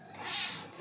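A single faint, short meow from a cat, soft and a little distant against a quiet background.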